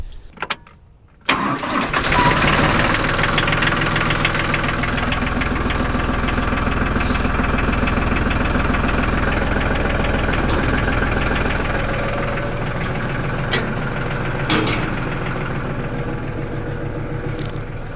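A tractor engine cranks and fires up, then settles into a loud, steady idle with a rough mechanical rumble. The tractor drives a BX42S three-point PTO wood chipper shredder, and the running continues unbroken for over fifteen seconds.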